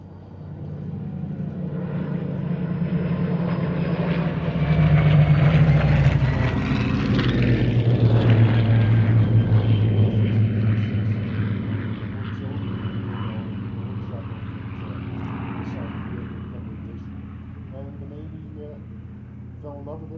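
Seafire fighter aircraft flying past at the Shuttleworth airshow, a propeller engine drone swelling as it approaches, peaking loudly overhead with a falling pitch sweep, then fading into the distance.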